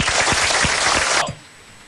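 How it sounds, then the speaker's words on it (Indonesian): Dense audience applause at an Islamic religious talk show, loud and sustained with sharp individual claps, then cutting off abruptly after about a second and a quarter into near silence. "Oke, tepuk tangan dulu."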